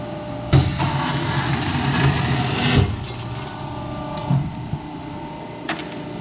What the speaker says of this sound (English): here we have a AMC H330 high die cutter